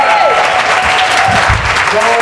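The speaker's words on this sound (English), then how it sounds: "You feel like clapping those hands?" A church congregation claps during a lively sermon, loud continuous applause mixed with shouts and a voice carrying over the top.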